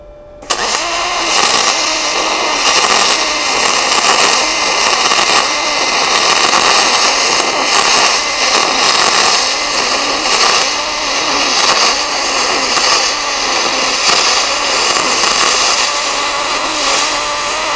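An Arc Captain MIG 200 welder runs a long continuous bead, its loud, even frying crackle starting sharply and sustaining close up for nearly eighteen seconds.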